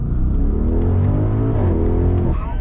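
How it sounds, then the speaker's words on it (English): A 2023 Audi RSQ8 engine pulling hard at full acceleration, a loud, steady deep roar heard from inside the car that climbs in pitch, dips briefly at a gear change, then rises again. "we're gonna get our full-blown acceleration here"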